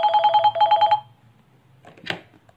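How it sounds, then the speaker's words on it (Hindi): A telephone rings with two quick bursts of electronic trilling bells, loud and close, then stops and a brief rustle or handling sound follows. "1 मिनट में एक फोन लेता हूं।"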